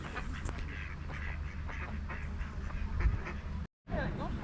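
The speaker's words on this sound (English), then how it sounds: "Line astern, the mallards there." Mallard ducks quacking in short nasal bursts, several calls in a loose sequence at moderate distance, over outdoor background noise at a hill climb in the Peak District, with a short dropout near the end.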